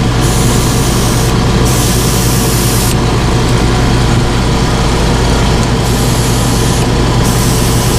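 An air compressor runs steadily and loudly while crappie jigs are spray painted in production quantity, a constant drone with a hissing spray layer that cuts in and out in several bursts.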